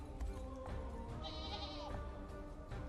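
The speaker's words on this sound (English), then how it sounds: "We can talk to the goats" A goat bleats in the video game Unicorn Overlord, a short wavering cry in the middle of a dense, steady bed of game music and ambience, with a faint voice in the background.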